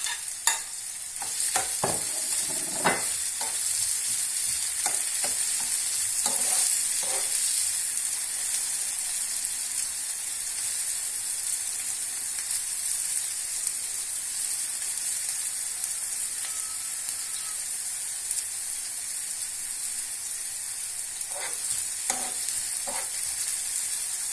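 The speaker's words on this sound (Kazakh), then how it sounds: "Енді қазір пиязымызды қуырамыз." Steady sizzling of onions frying in a hot pan after garlic, with occasional scraping and stirring clicks, continuous and close throughout.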